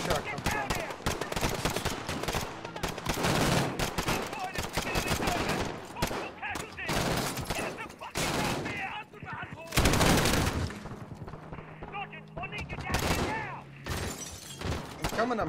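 Gunfire in the video game Call of Duty Modern Warfare, loud dense bursts of automatic rifle fire and single shots with breaking glass, continuous and close, with voices talking over the battle.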